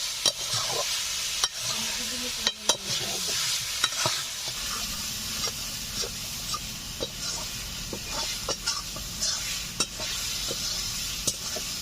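Fried river bausi fish and potatoes go into a pan of cooked-down spice paste and are stirred, giving a steady close sizzle with repeated sharp scrapes and knocks of the spatula across the pan.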